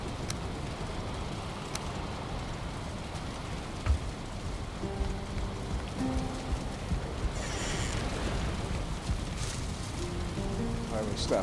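Steady rain patters across the Valheim game world, a dense hiss under occasional soft tones and clicks, with some faint movement sounds and no clear speech.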